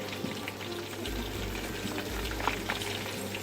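Water lily (shapla) flower fritters frying in hot oil give off a steady, close bubbling crackle with scattered pops, and no voices are heard.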